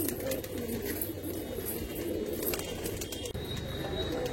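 Pigeons coo steadily and close by inside a pigeon loft, with soft overlapping calls over a dense, noisy background of birds and rustling.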